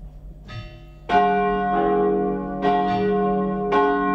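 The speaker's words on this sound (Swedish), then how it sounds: "Låt oss nu lyssna till klockringningen." Cathedral church bells ringing after a Swedish high mass, several heavy strikes entering one after another and leaving long, rich sustained tones that overlap and hang in the air.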